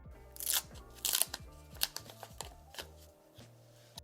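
Paper packaging crinkles and rustles close up as a Samsung Galaxy A16 5G smartphone is unwrapped, with sharp crackling bursts early on that ease into quieter rustles.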